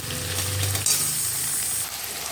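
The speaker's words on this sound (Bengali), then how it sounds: "এই যে আলু চিংড়ি মাছ ভাজা হয়ে গেছে" Potatoes and prawns fry in an oil-filled pan, a steady close sizzle with a clink of a utensil partway through and a low hum underneath.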